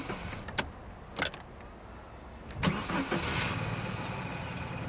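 An old, unreliable police car's engine cranks and fails to catch, with a jingle of keys and a few clunks, then a rough churning starter whine that never settles into idle; no one speaks.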